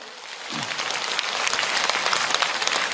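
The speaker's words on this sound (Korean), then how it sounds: "내가 박수 받으려고 그러는 게 아닌데" Audience applause at a Korean lecture on happiness, a dense, steady patter of many hands clapping that swells after a quiet start and holds at moderate loudness, with no talking.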